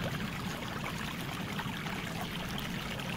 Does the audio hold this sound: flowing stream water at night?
yes